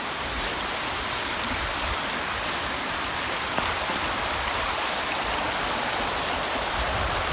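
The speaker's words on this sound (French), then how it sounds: "Très bel endroit, belle petite rivière." A small river flowing beside a winter woodland bivouac spot near the Gileppe, a steady, even rushing wash of water that continues without pause.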